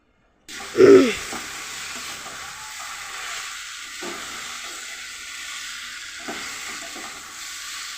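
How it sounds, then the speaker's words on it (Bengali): Small fried fish go into a pan of simmering unripe-tomato curry base, setting off a loud sizzling burst that settles into a softer, steady frying hiss. "এবার দিয়ে দিচ্ছি মাছগুলো, যে মাছগুলো ভেজে রেখেছিলাম এই মাছগুলো দিয়ে দিচ্ছি"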